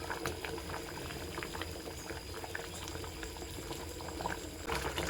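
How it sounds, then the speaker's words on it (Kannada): Salted water boiling hard in a pot for egg biryani rice, a continuous close bubbling and popping at steady strength with no voices. "ಈಗ ಚೆನ್ನಾಗಿ ಕುದಿ ಬರ್ತಾ ಇದೆ"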